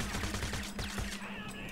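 Rapid automatic gunfire rattles in the Crysis video game, a fast, steady burst of shots close and loud that cuts off just before the end.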